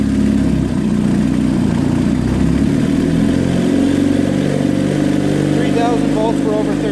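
Kawasaki KZ400 tracker motorcycle engine under light throttle at around 2,000 RPM, a loud, close, steady thrumming idle that rises slightly, with someone talking over it.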